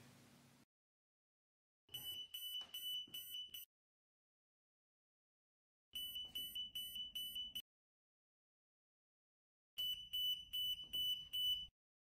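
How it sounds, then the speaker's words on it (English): A radiation portal monitor alarm sounds in three separate bursts of rapid, high electronic beeping, each lasting a couple of seconds, with silent gaps between them and a short faint noise at the start. "Keep the source in place until the alarm sounds."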